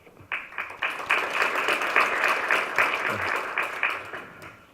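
Audience applause at a Daejeon urban regeneration seminar, a steady wash of clapping that rises quickly and holds for several seconds before thinning out.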